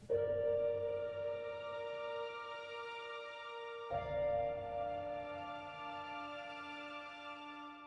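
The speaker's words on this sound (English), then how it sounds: "the alt grand playing just the first and third notes of each chord" Alt grand piano plays the first and third notes of each chord an octave up over a soft intimate strings patch, sustained harmonic tones with a fresh attack midway, in a slow cinematic track.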